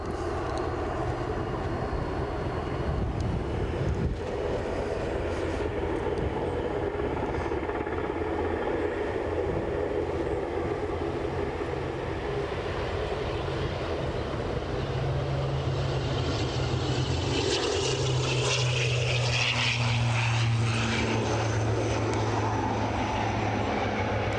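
An ATR turboprop airliner taxis and then takes off at Aberdeen airport, a steady engine drone and whine that swells into a rising propeller roar toward the end, with no talk over it.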